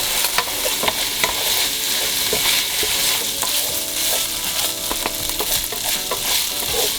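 Ground beef seasoned with soy sauce, salt and pepper fries in a pan as it is stirred, giving a dense, steady sizzle with frequent small scraping clicks of the utensil throughout.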